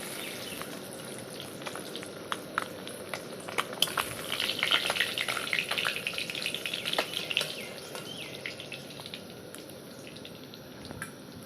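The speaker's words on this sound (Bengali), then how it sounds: "তো মাছটাকে ডিপ ফ্রাই করে তুলে নিলাম" Parshe fish deep frying in hot oil, giving a continuous crackling sizzle dotted with sharp pops, swelling slightly in the middle and then settling, with no voices.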